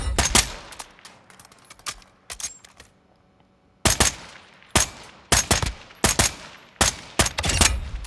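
FTAC Recon DMR firing in Call of Duty Modern Warfare II, sharp loud single shots in quick clusters and pairs, a pause of about two seconds, then a faster run of shots toward the end.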